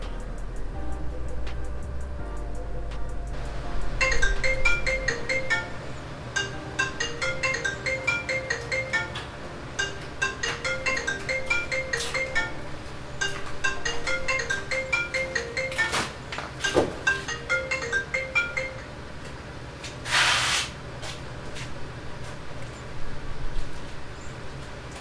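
A phone ringtone plays a repeating melodic pattern in several bursts over about twenty seconds, moderately loud, with scattered background noises and no talking.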